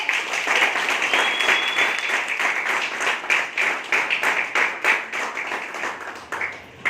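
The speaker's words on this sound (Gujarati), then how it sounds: "જોરદાર તાળી સાથે હું એમને માઇક હેન્ડ ઓવર કરું છું." An audience at a gathering welcoming a new district team coordinator claps for about seven seconds, a dense, loud, continuous applause that thins slightly toward the end.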